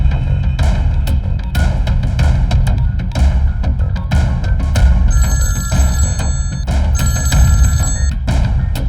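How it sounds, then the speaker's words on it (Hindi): Telephone bell ringing in an Indian action film scene, with repeated rings steadily through the stretch over a busy background, loud and close, with no talk. "दुग्गल को फोन लगा।"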